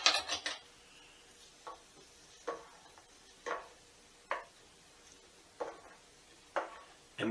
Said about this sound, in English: I'm going to give that a quick stir.